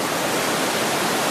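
Rushing water pours steadily in a dense, unbroken hiss, like a forest stream tumbling over rocks close by, on Navarino Island.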